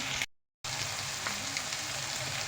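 Eggplant and egg fry in a pan with chili and turmeric powder, a steady close sizzle and crackle that cuts out briefly near the start, then continues on its own.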